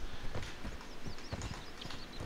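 Horse hooves in the video game Mortal Online clop in a steady walking rhythm, moderately close and fairly quiet, with no voices.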